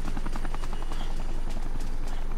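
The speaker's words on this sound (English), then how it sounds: "Well, there's a helicopter." A helicopter in Dead Rising beats close and loud, its rotor thumping in a fast, regular pulse over a continuous engine drone.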